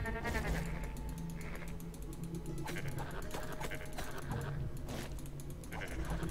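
Goat demons bleat in the video game Book of Demons, a run of nasal bleats over busy game music and clicking effects, steady and fairly loud throughout.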